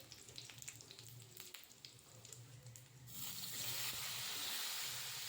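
Dried red chillies, bay leaves, whole garam masala and cumin seeds drop into hot oil, a quiet crackle that swells midway into a loud, sustained frying hiss.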